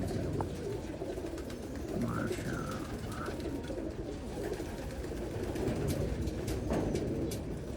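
Tiger dab pigeons in a loft coo in low, soft bursts throughout, steady and close, with faint wing flutters and a busy background hum.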